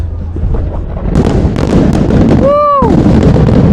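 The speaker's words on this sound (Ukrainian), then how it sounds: "І на цій фінальній ноті ми маємо святковий салют." Loud crackling and booming fireworks at the Calgary Stampede opening, in a noisy outdoor crowd, with a rising whistle-like tone partway through amid constant rumble.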